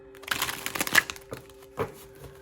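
A homemade card deck being shuffled by hand, a short, close burst of papery riffling and soft crinkling taps, with a second small flutter near the end.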